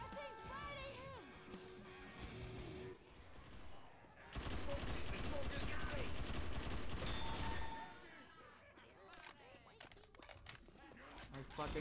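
Gunfire in the zombie video game Left 4 Dead 2, quiet bursts of rapid automatic fire under shouted player voices, swelling into a dense sustained fusillade midway before fading back to scattered shots.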